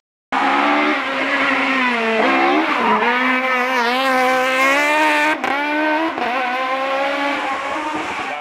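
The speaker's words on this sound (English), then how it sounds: "Carl's Rapid 2008 WRX STI is one that I am very familiar with." A 2008 Subaru WRX STI race car at a motorsport festival screams loudly through the gears, its engine note rising and falling with sharp shifts, close and continuous throughout.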